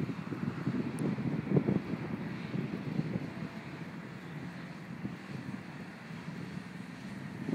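Gusty wind buffeting the microphone outdoors during an RC plane landing, a low, uneven rumble of moderate loudness that swells and eases without a break.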